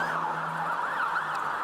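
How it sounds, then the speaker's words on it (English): A London street siren from an ambulance or police car, wailing steadily and fairly loud throughout with its pitch sweeping up and down, set against a constant traffic hum and no voices. "If it's not a copper, it's an ambulance."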